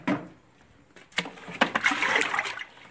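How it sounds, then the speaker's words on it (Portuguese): Water from a container is flung out into a yard, giving a short splash, then a longer spattering rush of liquid hitting the ground nearby after some soft handling noises. "eu vou estar jogando essa água aqui lá no quintal"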